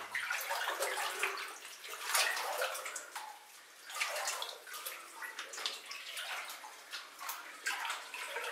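Legs wade through thigh-deep water over a sandy bottom, sending repeated sloshing splashes in an uneven walking rhythm, close and fairly soft.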